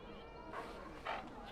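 Short yips and bow-wows from a dog companion in the fantasy role-playing game Dragon Age: Origins, two brief bursts over steady game ambience while a person talks.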